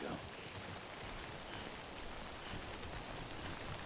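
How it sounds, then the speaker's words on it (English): Steady rain falls in the video game Death Stranding as a faint, even hiss of drops with no change in rhythm, quiet and continuous throughout. "if only it would stop raining"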